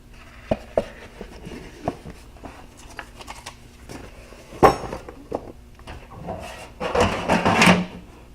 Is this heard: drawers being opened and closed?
yes